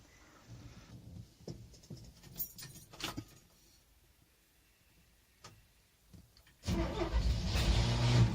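Faint clicks and rattles from inside a car precede the engine cranking and catching, then running steadily and loudly up close. The car has a repaired vented gas cap.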